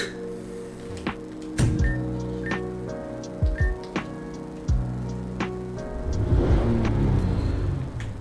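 Truck ride in Pokemon Rejuvenation: a steady low engine hum runs throughout, with sharp clicks and ticks scattered over it and a louder rumbling swell near the end.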